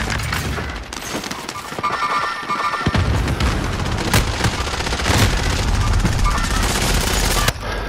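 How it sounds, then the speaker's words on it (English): Video game gunfire in a street shootout, with bursts of automatic fire and sharp single shots coming close and loud amid rumbling booms, and players talk over it. "they're across the streets shooting at us."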